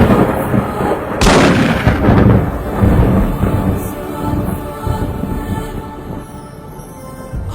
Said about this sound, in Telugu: నా తల్లిని కూడా వారు కాల్చేశారు